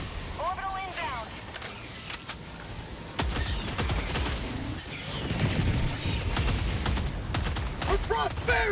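A rolling orbital strike barrage from Helldivers 2 thunders on without a break, with rapid gunfire and blasts piling up into a dense, loud roar as voices talk over it.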